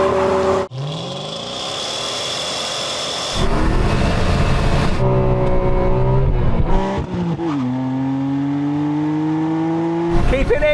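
Toyota Supra and Dodge Charger in a drag race: engines roar and rev hard with rising gear pulls, close and loud throughout, with brief talk over the engine noise.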